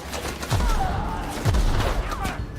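Repeated gunfire in The Outer Worlds, with heavy low thumps about a second apart over a dense, steady combat din and a faint voice underneath.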